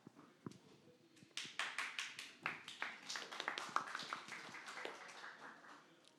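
A small audience gives scattered, quiet applause for a speaker at a talk on critical minerals. The separate hand claps swell into a brief patter, then taper off.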